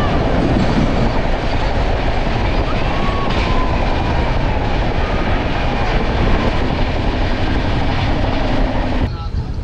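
A moving train rolls along with a loud, continuous rumble and rattle of the carriages, heard from close by as a steady roar with faint clickety-clack, ending in a brief shift near the close.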